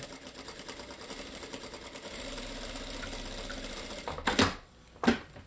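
A sewing machine hums steadily at a low level while joining a puff sleeve dress, then two short, louder bursts of stitching close out the run.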